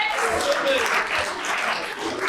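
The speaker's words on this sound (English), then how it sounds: "Come on, let's get some louder applause in here for our next contestant." Audience applause for a contestant called up at a live talk at Montclair State, steady and moderately loud clapping spread across the room, with a voice talking over part of it.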